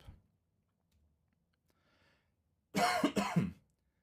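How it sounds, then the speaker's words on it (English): A person gives two quick, harsh coughs close to the microphone after a few seconds of near silence, suggesting a recovering voice. "So if I'm coughing excessively, this is nothing like what it was yesterday or the day before or last week."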